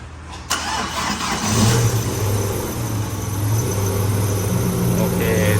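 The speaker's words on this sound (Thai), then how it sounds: "เดี๋ยวมาติดเครื่องดูอ่ะ" A Tata truck's diesel engine cranks after a sharp click and catches, then settles into a steady, loud idle close by; the truck has a newly fitted power pump and injector rail.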